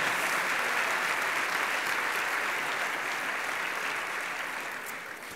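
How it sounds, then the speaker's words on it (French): Audience applause at a charity campaign launch, a dense, even wash of clapping that holds steady and then fades slightly in the final second. "J'aimerais que nous les applaudissions, s'il vous plaît."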